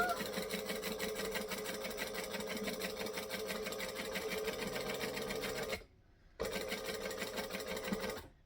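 A sewing machine stitching down the side of a piece with a steady rapid whir, stopping abruptly for a half-second pivot, then resuming at the same pace.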